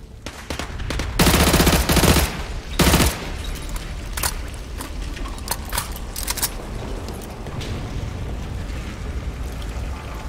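Heavy automatic gunfire in Call of Duty: Modern Warfare 2 during a gulag assault, with loud sustained bursts near the start and scattered shots and impacts continuing through the rest, no talk.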